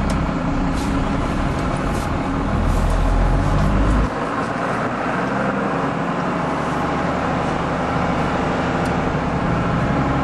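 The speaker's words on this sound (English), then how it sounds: "Push in the clutch. Put it up in first. And off we go." A 1996 Dodge 2500 diesel pickup with a five-speed manual pulls away in first gear, its low engine rumble loud and steady from start to finish and the heaviest drone easing slightly partway through.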